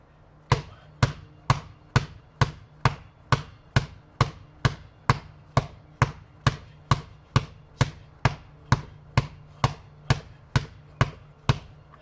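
A basketball is pounded hard against the floor in a dribbling drill, about two sharp, loud bounces per second in a steady, even rhythm with no pause.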